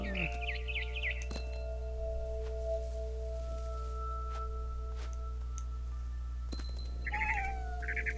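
Cat meowing in the video game What Remains of Edith Finch: a couple of short, clear meows near the start and end, each standing alone over a steady hum and a faint ringing tone, with quiet clinks between them.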